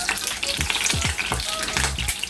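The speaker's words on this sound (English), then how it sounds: "let's let it fry." Jamaican saltfish fritters frying in oil, a dense, steady crackling sizzle with small popping bursts, close and continuous with no talk.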